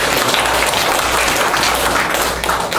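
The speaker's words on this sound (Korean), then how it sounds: "박수 한번." A church congregation claps together in sustained, dense applause that fills the room loudly and evenly for a few seconds.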